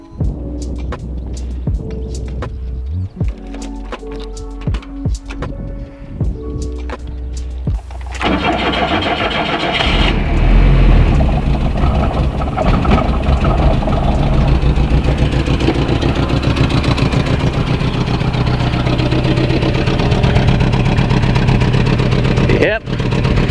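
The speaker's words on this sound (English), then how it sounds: "got the truck running, so let's see if it still runs" A VW Rabbit pickup truck engine cranks and fires, then settles into a loud, steady idle that runs to the end. Speech is heard before the engine catches.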